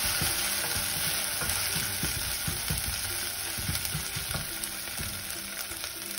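Ginger garlic paste sautés in a hot pan for mutton biryani, with a steady, close sizzle and frequent scraping stirs throughout.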